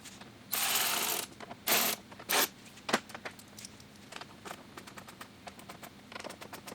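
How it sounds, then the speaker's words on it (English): A ratchet tightens the three mud flap screws on a 2022+ Toyota GR86, heard up close as loud bursts of rapid clicking and then a run of short, quieter clicks. "we're now going to go ahead and fully tighten all 3 screws down"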